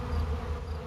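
Bees buzz in a brief, close, steady low drone.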